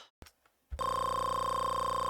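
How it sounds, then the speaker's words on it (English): Extended health restoration sound from a video game, a brief click and thump followed by a sustained, loud electronic tone with a rapid pulsing warble, much like a telephone ring. "it's the health restoration sound that's way too extended"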